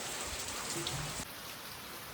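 Heavy morning rain on a farm pours steadily in a dense, even hiss that fills the whole span, with no voices over it.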